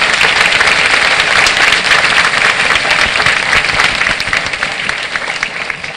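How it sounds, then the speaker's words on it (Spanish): Loud, dense applause from the audience at a clinic inauguration ceremony in Monterrey, Mexico, a continuous roar of many hands clapping that holds for six seconds and eases a little near the end. "Un aplauso también, por favor, para él."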